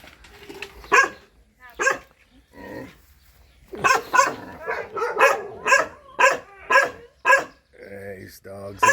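Dogs at a Thai-style home outside northeast Bangkok bark in repeated sharp bursts, a few scattered at first then a rapid run of loud barks, with someone talking between them.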